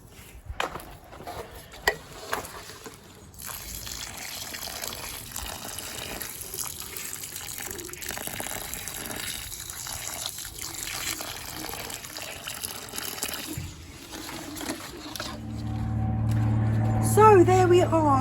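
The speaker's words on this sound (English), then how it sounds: "I'm going to put some water on that, let it settle before I fill it in with some more" Water is poured from a garden container onto a newly planted Floribunda ruby rose bush, a steady splashing trickle that runs for most of the stretch and swells near the end, with outdoor background noise.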